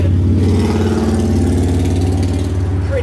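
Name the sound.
big motorcycle engine passing on the street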